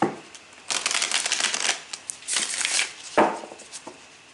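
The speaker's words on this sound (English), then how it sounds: "So we will shuffle these cards just a few times." Tarot cards are shuffled in several quick riffling bursts, close and crisp, with short pauses between them.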